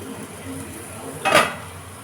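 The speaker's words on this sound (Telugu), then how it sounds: "ఇప్పుడు మూత అయితే తీసుకుందాం." A metal lid comes off a pan of frying ivy gourd and potato with one brief clattering scrape, set against a faint low background hum.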